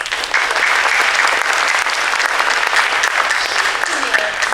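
Audience applause at a college night event, a steady, loud wash of many hands clapping that continues without a break throughout.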